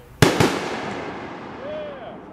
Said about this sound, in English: I hope you enjoyed this look of fireworks I saw on the 4th of July